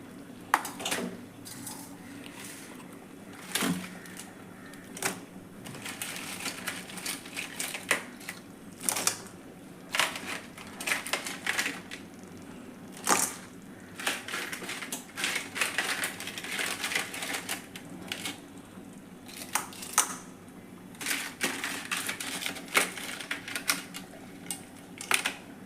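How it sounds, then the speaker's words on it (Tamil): Cleaned crab pieces dropped into a cooking pot for crab masala, a long run of irregular clattering shell knocks and scrapes against metal, close and moderately loud, with no talking. "இப்போ இந்த நண்டை இதில் போட்டுற வேண்டியது தான்."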